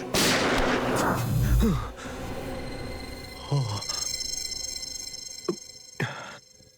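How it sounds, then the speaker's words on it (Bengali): Several loud gunshots ring out in a tense crime-drama scene, a heavy blast at the start followed by sharper single reports spaced a second or two apart, each trailing off with a short ringing echo. "শুট অভিজিৎ, শুট, বলো।"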